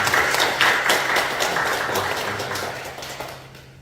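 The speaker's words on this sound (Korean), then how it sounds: "우리 박수로 환영하겠습니다" A church congregation at a Korean Sunday worship service claps together to welcome newcomers, a dense, steady patter of many hands that gradually fades toward the end.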